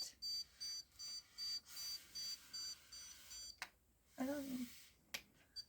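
A rapid run of faint electronic beeps from a stud finder pulses in regular bursts, followed by a short low rumble and a couple of sharp clicks.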